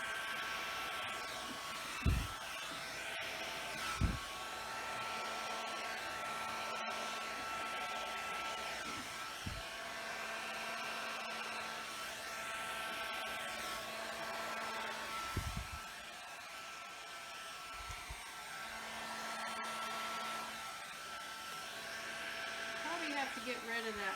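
Steady rushing stream of blown air from a hair-dryer-like blower pushing gold and blue Dutch pour acrylic paint, continuous and fairly loud, with a few brief bumps and knocks along the way.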